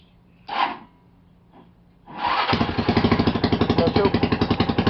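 Harley-Davidson motorcycle cold-starting with the choke on: a short cranking burst, then the engine catches around two seconds in and settles into a loud, steady, rapid idle that runs to the end.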